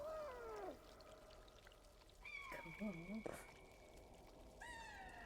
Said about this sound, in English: You can hear your cat family meowing at you from above